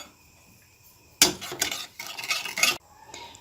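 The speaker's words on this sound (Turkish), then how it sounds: "Hemen toz şekerimizi yarım çay bardağı kadar toz şekeri ekleyip karıştırıyoruz" A spoon stirs sugar into orange juice in a cooking pot, scraping and clinking against the metal in a busy burst of about a second and a half after a quiet start, then stopping.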